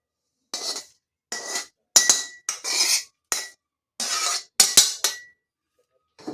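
Roasted coconut for fasting laddoos is scraped off a pan onto a metal plate, making about nine short, separate scraping clinks and rasps close up, with silence between each stroke.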